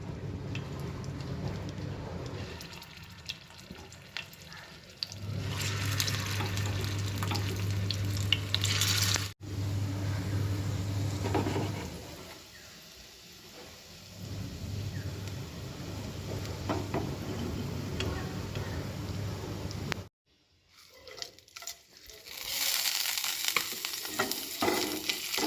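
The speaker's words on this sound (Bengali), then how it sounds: "এক এক করে কোপ্তাগুলো ভেজে নিই" Cauliflower koftas frying in oil in a pan at home, a steady close sizzle and crackle lasting throughout with brief pauses and stirring noises, no talking.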